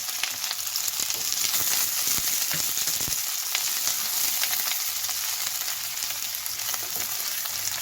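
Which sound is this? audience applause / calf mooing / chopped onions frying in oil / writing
chopped onions frying in oil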